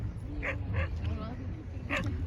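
Dogs give a few short, faint yips and barks in quick bursts over a low background hum, heard from a distance.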